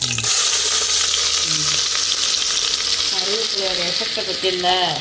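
Fennel seeds, curry leaves and green chilies crackle and sizzle loudly in hot oil, a continuous dense frying hiss with someone talking over it.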